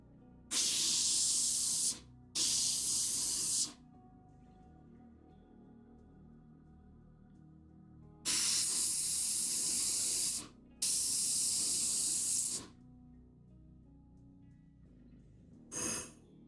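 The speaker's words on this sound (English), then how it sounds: "What the fuck does an airbrush even do? It shoots air out the thing, so it spreads your paint evenly and faster." An airbrush sprays air and paint in several loud, sharp hissing bursts of one to two seconds each, separated by quiet pauses, with a short final burst at the end.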